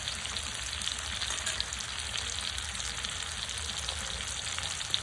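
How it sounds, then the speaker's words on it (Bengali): Potatoes frying in oil, a soft, even sizzle that holds steady for a few seconds with no voices. "যতক্ষণ আলুটা ভাজা হচ্ছে"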